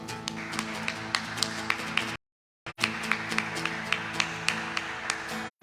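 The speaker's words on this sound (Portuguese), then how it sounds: "As palmas, louve o Senhor." A church congregation clapping in rhythm, sharp regular claps over a sustained musical backdrop, briefly cut to silence midway before resuming at the same steady pace.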